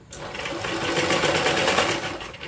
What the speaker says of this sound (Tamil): இப்போ பாருங்கள், நம்ம வந்து ஸ்டிச் பண்ணி முடிக்க போகிறோம்.